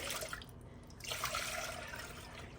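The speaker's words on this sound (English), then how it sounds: "So basically we're just gonna come in here and pour our milk" Milk is poured into a heavy-bottomed saucepan, a faint steady liquid trickle and splash heard close up in a quiet kitchen.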